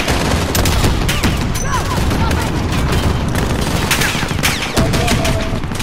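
Gunfire in the video game Call of Duty Modern Warfare crackles in dense overlapping bursts and rapid automatic volleys, loud and sustained throughout, with sharp individual shots mixed in and a voice speaking briefly beneath.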